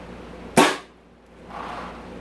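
Single sharp shot from a custom-built ball-shooting gun, a close snappy crack followed by a short fading whoosh, heard alone without speech.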